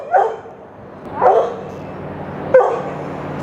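Dogs bark outdoors in the distance while chasing something, three separate barks spaced about a second apart, moderately loud.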